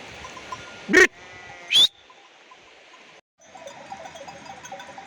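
Two loud, close bleats from a sheep on a mountain pasture, a second apart, over a quiet outdoor background of faint distant noises.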